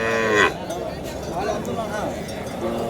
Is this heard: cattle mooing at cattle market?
yes